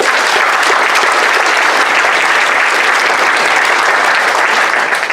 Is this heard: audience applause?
yes